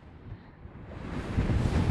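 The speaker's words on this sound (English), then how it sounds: "it is too flipping windy to go any further than this" Strong wind roars across the microphone near the top of Snaefell mountain, building steadily louder and more buffeting toward the end, with no voices.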